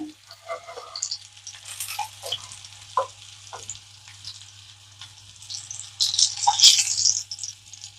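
Stuffed bitter gourds sizzling in a little oil in a pan, a light crackling fry with scattered pops and a brief louder burst of spatter near the end, close up and without speech.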